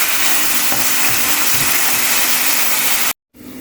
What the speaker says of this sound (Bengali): আমি পেঁয়াজ আর রসুন ব্রাউন কালার করে ভেজে নেব।